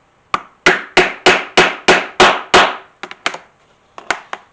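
A metal leather punch hammered through a leather suspender strap: eight sharp, ringing hammer blows in even rhythm, then a few quicker lighter taps, loud and close.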